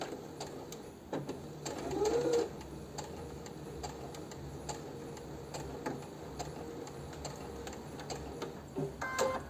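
A domestic sewing machine backstitches on a seam while sewing cuffs and piping, giving a faint, quick run of ticking stitches over a quiet room hum.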